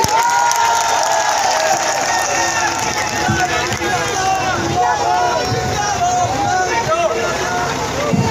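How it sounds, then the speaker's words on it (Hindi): A large campaign rally crowd in Mathura claps loudly to welcome Akhilesh Yadav, a dense, roaring mix of applause and cheering that runs unbroken, with an amplified voice speaking over it. "आप लोग जोरदार तालियों से उनका इस्तकबाल कीजिए"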